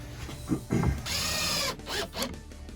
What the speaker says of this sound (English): Okay, so I'm going to screw down the the boards now.